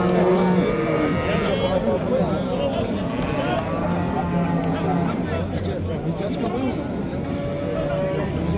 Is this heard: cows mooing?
yes